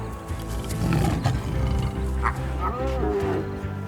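Lions in Zambian wilderness give deep, rumbling roars and grunts that repeat steadily at moderate loudness, with no talk over them.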